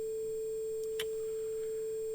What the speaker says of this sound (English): there's VCC playing back at 440 hertz using that waveform that we have here, which is our sine wave